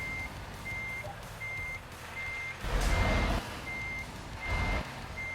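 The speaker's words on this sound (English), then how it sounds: "All I can hear is the sound of the reversing beeps." A truck in a trucking video game reverses, its backup alarm beeping in an even, regular rhythm, loud and close, with engine rumble and hissing air swelling twice underneath.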